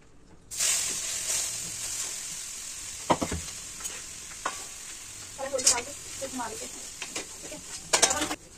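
Grated carrot for gajar halwa being stirred in a hot pan, with a steady sizzle and frying hiss throughout and occasional scraping stirs of the spoon against the pan, close and fairly loud.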